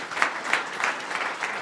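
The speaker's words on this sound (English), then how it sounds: "let's have a round of applause for Internal" An audience at a startup pitch event applauds briefly, a steady burst of clapping that sounds moderately distant and fairly soft and fades out within a couple of seconds.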